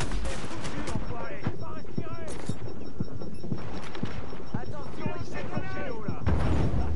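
Incendiary grenades going off in The Division, a run of sharp, punchy blasts and crackling bursts scattered across several seconds, loud and close, with gunfire-like hits between them and a voice speaking now and then.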